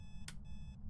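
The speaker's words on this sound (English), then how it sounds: "Shut up, alarm clock." A short electronic alarm clock from the ghost-hunting game Phasmophobia chirps in high steady tones, broken by a brief click, faint against a low background hum.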